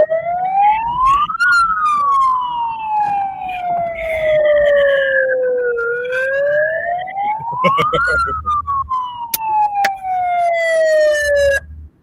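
A wailing siren rises and falls in two long sweeps, loud and close, ringing under a highway underpass during a kindergarten parade, with brief voices alongside.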